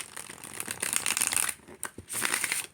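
Tarot cards are riffle shuffled and bridged up close, a quick fluttering rattle of card edges that pauses briefly and then resumes in a second burst, fairly quiet with no voices.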